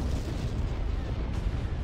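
Ship weapons firing and explosions in the Star Wars Empire at War space battle game, a dense continuous rumble of booming blasts and bursts without pause.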